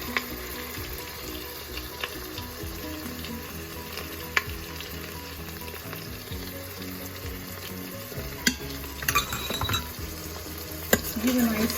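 Indian-style pasta stirred in a pan with red sauce and tomato ketchup, a continuous close sizzle with spatula scrapes and occasional clinks of utensils against the pan, no talking.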